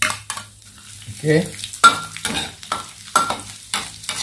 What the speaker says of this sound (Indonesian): Okey, sekarang kita goreng dah.